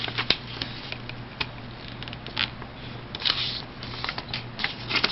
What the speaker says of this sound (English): Now I'm going to fold this edge to this edge right here.